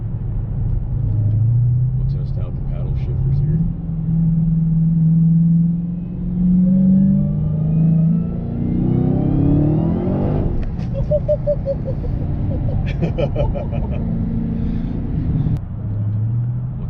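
A 2016 Dodge Challenger SRT Hellcat accelerates hard with paddle-shifted gears, its deep engine rumble rising in pitch, breaking at a shift, then climbing again, while voices talk inside the cabin.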